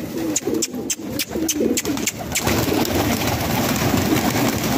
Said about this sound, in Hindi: आज मैं साठ की साठ कबूतर बाहर निकालने लगा हूँ और आपको उड़ा के दिखाऊँगा